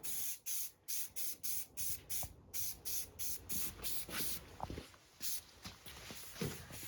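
Repeated short bursts of spray paint as a tan base coat goes onto a turkey hunting shotgun, about a dozen evenly spaced hissing pulses close by, with faint handling clicks between them and no talking.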